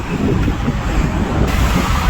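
Steady sea wind and surf at a Manila Bay beach wash over the microphone as a constant, fairly loud rumbling roar with no distinct breaking waves and no talk.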